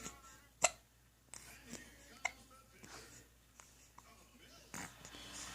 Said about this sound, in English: and I always usually get the hiccups right after